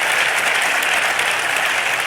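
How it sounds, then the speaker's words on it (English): Audience applause fills a room at a press conference for a new Nebraska Husker head coach, a steady dense wash of many hands clapping throughout, loud and continuous with no gaps. "Give yourself a round of applause for being here"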